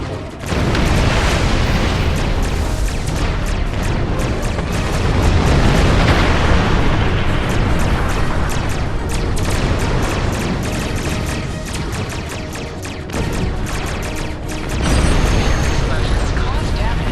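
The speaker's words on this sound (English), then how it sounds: "Put some distance between yourself and exploding ships." Continuous loud booms and crackling blasts of exploding starships in the space-combat game Star Trek Online, a dense roaring barrage with bursts swelling near the middle and end, under talk.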